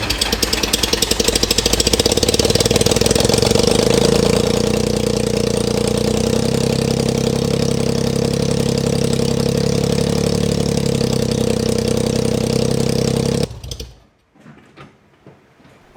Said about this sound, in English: we're ultimately going to hear this thing run with the new mufflers for the first time